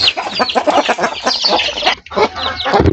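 Young chicks and grown chickens cluck and peep busily at feeding time in a backyard coop, a steady chatter of many birds close by, with brief rustling and no talk.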